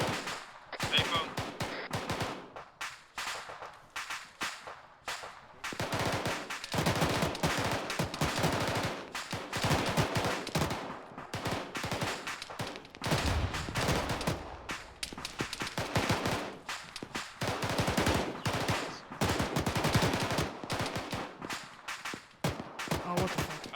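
Sustained gunfire in the military game Arma 3 during a night convoy operation, dense bursts of automatic and single shots, some close and some distant, continuing with little pause throughout.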